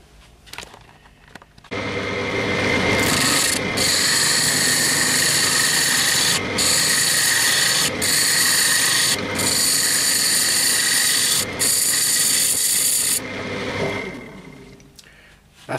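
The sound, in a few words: wood lathe turning and shaping a laurel box lid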